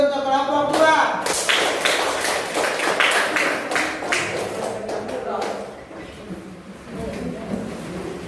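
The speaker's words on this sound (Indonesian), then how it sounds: "Ya aplaus dulu untuk kelompok 2." A classroom group gets a round of applause, a burst of clapping and taps that fades over several seconds, with voices murmuring underneath.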